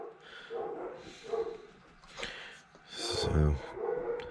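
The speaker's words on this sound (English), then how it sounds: "And I apologize for the dogs today." Multiple dogs bark in short, uneven bursts nearby, with one louder bark cluster in the middle and no clear speech over them.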